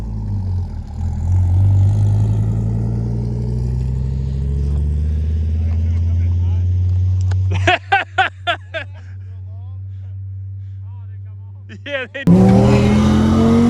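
A sports car doing a burnout at a holiday burnout and donut meet holds a loud, steady low engine roar. People talk briefly nearby before the engine surges again.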